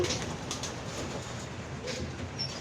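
Racing pigeons arrive at the loft in heavy rain at the end of a race in Santa Ana, Cagayan, with faint cooing over a steady wet hiss.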